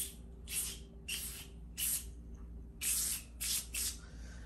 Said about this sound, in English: I'm gonna spray some of this and see if I'm able to get the rust off.